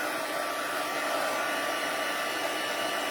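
Heat gun running at its highest setting, a steady, close, loud blowing hiss that holds unchanged throughout with no talk.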